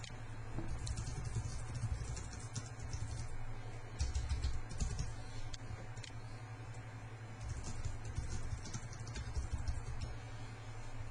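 Typing on a computer keyboard while writing a post on a bulletin board, with quiet, irregular bursts of key clicks separated by short pauses.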